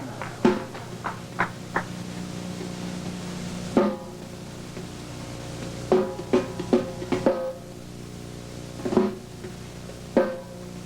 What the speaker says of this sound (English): I have these things, which are brushes.